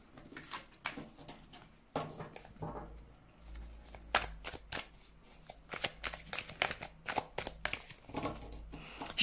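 Tarot oracle cards are shuffled by hand for a reading, giving a close, quiet series of papery riffles and soft slaps in irregular bursts.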